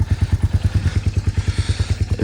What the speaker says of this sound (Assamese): আৰু এইফালে চব বাইকবিলাক ৰেডি হৈ আছে